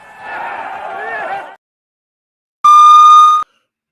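A short alarm sound effect: one loud, steady electronic tone held for under a second, following a stretch of crowd-like noise and a moment of silence.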